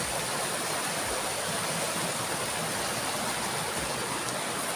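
A river flowing near a mountain waterfall in the Philippines gives a steady broadband rush of water, even and unbroken throughout.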